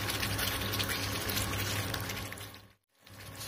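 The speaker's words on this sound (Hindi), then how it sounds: "ये गई इसके अंदर अदरक और हम इसको फिर से भूनते हैं।" Ginger being sautéed with chicken angara masala in a pan gives a steady, dense sizzle and crackle that runs on continuously, briefly dropping out to near silence before returning just as loud.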